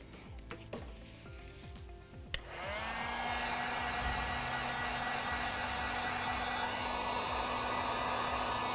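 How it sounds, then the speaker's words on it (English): Heat gun switching on and blowing steadily to soften and lift tape from the back of a small wooden charcuterie board, a loud continuous airy whoosh with a low hum that holds for several seconds after a few light handling clicks. "This is where your heat gun's gonna come in handy once again."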